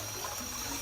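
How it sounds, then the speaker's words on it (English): Tap water running steadily from a kitchen faucet, a continuous close splashing stream with a faint steady hiss, no voices. "There you go, right from the tap."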